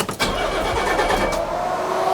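A twin-turbo race car engine cranks over on a portable jump starter, a steady, close, continuous churning without catching, running alone for a couple of seconds.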